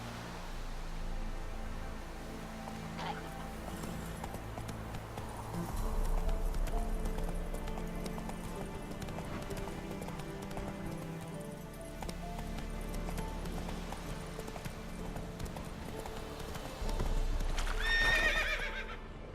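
A horse gallops in The Witcher 3 video game, its hooves drumming a steady clip-clop rhythm throughout, with an occasional whinny and a light wash of ambient game noise behind it.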